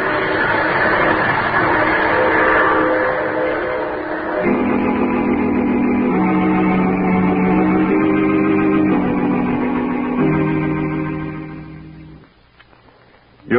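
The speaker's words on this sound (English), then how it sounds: "I take this same train every week at this same time." A train sound effect in an old-time radio drama, a loud, steady rumbling roar with shifting tonal layers and echo, running continuously before fading away near the end.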